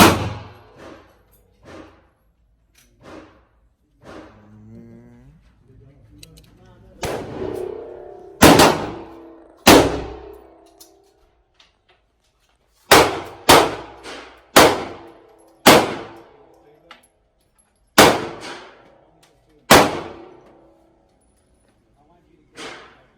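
Gunfire at an outdoor gun range, about ten sharp, loud shots spaced a second or more apart, several followed by a ringing clang of bullets striking steel targets; people talk in between.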